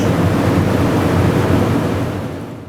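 Water drains from a fire apparatus pump through open bleeder valves in sub-freezing conditions, a loud steady hiss and rush of escaping water close by that eases slightly toward the end.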